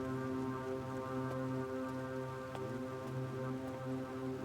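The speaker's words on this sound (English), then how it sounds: "The rain isn't helping." Rain falls steadily at an old dam in British Columbia, a constant hiss with occasional sharper drop taps over a steady droning hum, with no voices.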